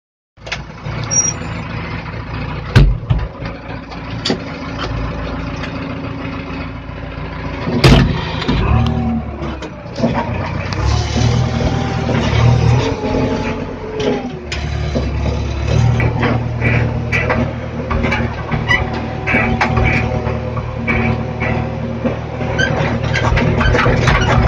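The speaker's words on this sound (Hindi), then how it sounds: "साथ ही इंजन साउंड इसकी थोड़ी सी लाउड होती है" A JCB 3DX Xtra backhoe loader's diesel engine starts and runs loudly nearby, a deep rumbling drone with clunks and a sharp knock early on, rising in intensity as it continues without talk.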